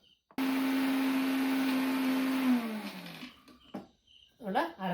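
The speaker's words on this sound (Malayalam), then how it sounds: "അപ്പോൾ എല്ലാം കൂടെ നമുക്ക് മിക്സിയുടെ ചെറിയ ജാറിലിട്ട് നന്നായിട്ടൊന്ന് അരച്ചെടുക്കാം." A mixer grinder's small jar whirs steadily as it grinds masala paste with a little water, a loud continuous motor whine that slows and drops in pitch before stopping, followed by a few clinks and brief talk.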